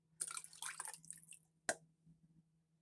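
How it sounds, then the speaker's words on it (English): Beef stock is ladled and poured into a measuring cup, soft dripping and splashing of liquid in a quiet kitchen, a brief pour followed by a sharp tap and a few trailing drips. "dip out a couple of cups of the beef stock and just put it here in our measuring cup"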